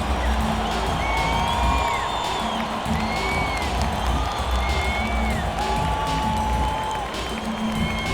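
A large crowd cheers and applauds steadily throughout, with whistles and whoops rising over the dense roar of clapping, in NBA 2K23 basketball gameplay of Denver Nuggets vs Phoenix Suns.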